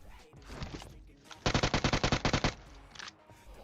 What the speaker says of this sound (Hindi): इधर पे उतरते ही मैं अपनी गोली बर्बाद करने वाली हरकतों पे आ जाता हूं